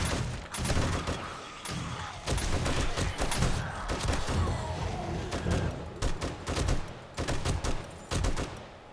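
Rapid gunfire from shooting zombies at a base in 7 Days to Die, loud bursts and single shots with thuds coming in quick clusters over steady combat noise, no talk.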